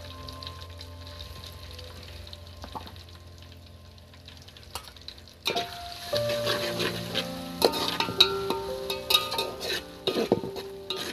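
Ginger garlic paste for chicken biryani hits a pan of hot oil, starting as a soft sizzle before swelling midway into a louder, crackling fry with utensil clinks, close by.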